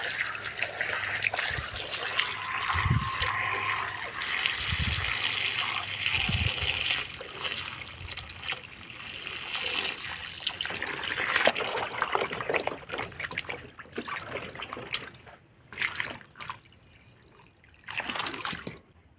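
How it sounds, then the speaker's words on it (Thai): Water runs and splashes steadily while soil is washed off freshly harvested bamboo shoots. The trickling and gushing continues throughout, with a few heavier splashes and clunks at close range. "ล้างเอาดินเอา เศษที่ว่าติดติดอยู่ออกนะพี่น้อง"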